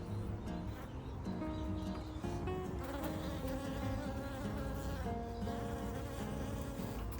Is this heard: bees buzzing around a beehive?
yes